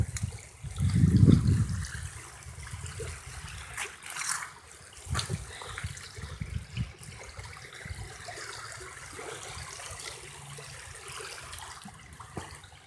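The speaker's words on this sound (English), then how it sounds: "it's raining and thundering" Rain falling during a thunderstorm with water trickling and dribbling nearby, a soft continuous patter broken by a louder splashing burst early on and scattered sharper drips.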